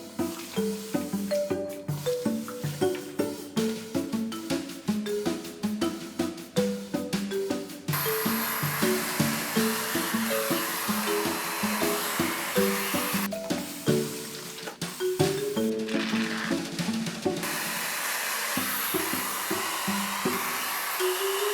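A handheld hair dryer with a diffuser attachment drying wavy hair, blowing as a steady whooshing hum broken by irregular rustling and scrunching. Airflow cuts in and out and changes tone as the dryer is moved around.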